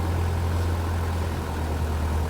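Boat engine on the Norfolk Broads turning over at reduced RPM, a steady low droning idle with a constant heavy hum, loud and close, with no talk.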